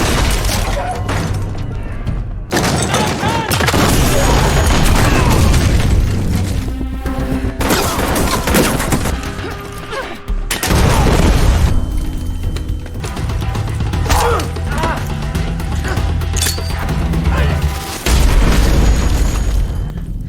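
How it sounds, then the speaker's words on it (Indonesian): Hand grenades detonate in an action-film shootout inside a weapons storeroom: loud, repeated booming blasts and bursts of gunfire crowd one another for the whole stretch, with rumbling lows and brief crashing debris between hits. "dia pun menemukan seperangkat granat tangan hingga inilah yang terjadi"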